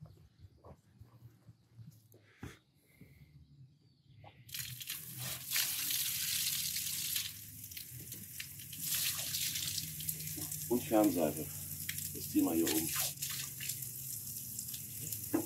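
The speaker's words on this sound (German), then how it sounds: "Hier, das war der Wasserhahn." Water runs from an outdoor tap at an alpine pasture hut, a steady broadband rush that starts partway in and continues while someone talks over it.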